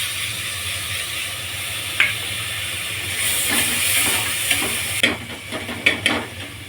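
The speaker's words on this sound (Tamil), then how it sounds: "இப்போ இஞ்சி பூண்டு பேஸ்ட் போட்டுடலாம்." Ginger garlic paste hits hot oil in a pan while spinach biryani is being cooked, setting off a strong steady sizzle with steam hiss and a few scraping stir sounds. There is no talk.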